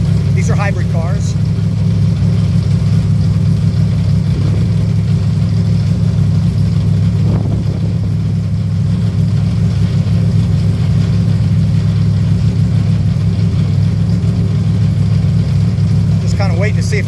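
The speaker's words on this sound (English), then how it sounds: "now you can actually hear the Cadillac as they're idling it" A Cadillac GTP hybrid race car idles in the paddock at Road America, its engine a steady low rumble that holds throughout, with a person talking over it.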